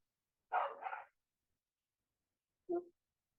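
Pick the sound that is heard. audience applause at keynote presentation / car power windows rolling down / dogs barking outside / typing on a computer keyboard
dogs barking outside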